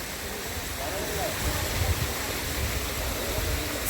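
Glacier-fed mountain stream on the Valley of Flowers trek, a constant broadband rush of flowing water, fairly loud and steady, with a little wind buffeting.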